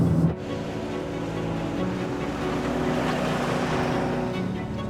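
Off-road vehicles roll along a sandy track in Botswana, giving a steady engine and tyre rumble with wind noise that continues for several seconds after a brief knock at the start.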